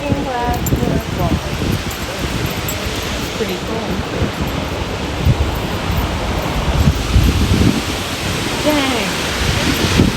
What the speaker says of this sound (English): Looking glass waterfall.